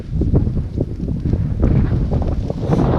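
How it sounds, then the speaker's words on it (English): Strong wind buffeting the microphone on a dry, grassy hill summit in Galloway Forest Park, loud gusty rumbling that surges and fades over a few seconds with no one talking. "Yes, it's rather windy."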